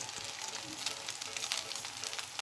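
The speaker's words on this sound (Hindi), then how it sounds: "इसी तरह हमने सारे कबाब फ्राई कर लेने हैं।" Potato seekh kebabs fry in hot oil with a steady, dense sizzle and crackle, close and continuous, cutting off abruptly at the end.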